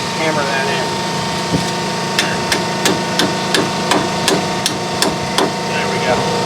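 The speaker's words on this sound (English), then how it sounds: "Take it, hammer that in" Sharp metallic hammer blows driving a wheel hub into place on a 2003 Chevy Suburban, about a dozen close strikes in a fairly steady rhythm over a low background hum.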